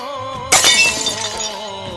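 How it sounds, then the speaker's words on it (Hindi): A drinking glass breaks with a sudden bright crash at mid-clip, its shattering ring trailing off over an ongoing background tone, indoors in a family comedy sketch. "सॉरी, वो गलती से ग्लास टूट गया।"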